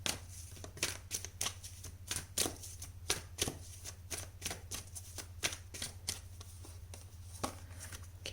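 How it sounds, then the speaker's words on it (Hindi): Tarot cards are drawn and shuffled from a deck, a run of soft, close flicks and slaps at an uneven rhythm over a low steady hum. "ये आपके पास्ट के कार्ड्स, प्रेजेंट के निकाल लेते हैं दो कार्ड्स।"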